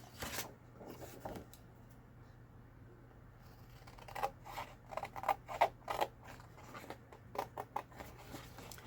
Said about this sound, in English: now I'm going to let that dry and I'm going to cut this out